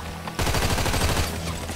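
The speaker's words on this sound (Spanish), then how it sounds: "me están disparando" Rapid gunfire bursts out of near silence in a first-person deathmatch in GTA Online on PS4, a loud, dense fusillade of close shots that keeps going and then slowly trails off.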